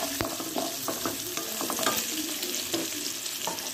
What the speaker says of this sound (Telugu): వేగిన తర్వాత క్యారెట్ ముక్కలు, జీడిపప్పు ముక్కలు వేసి దోరగా వచ్చే వరకు వేయించండి